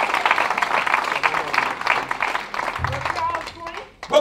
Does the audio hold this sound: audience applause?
yes